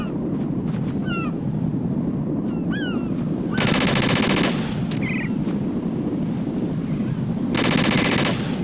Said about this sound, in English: Oh, that's a grenade launcher